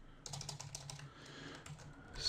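Soft, quick keystrokes on a computer keyboard as code is typed in, a faint close patter of clicks in short bursts over quiet room tone, with no talking.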